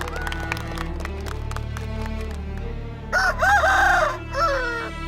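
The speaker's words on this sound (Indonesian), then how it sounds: "sayembara kokok ayam." Roosters crowing in a village crowing contest, several long, loud crows overlapping in the second half, over a noisy crowd and rhythmic ticking or clapping in the background.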